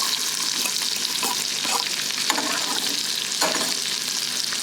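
Wild ramps go into a pan of melted butter and fry with a loud, steady sizzle and crackle, close up, with occasional louder spits and stirring scrapes throughout.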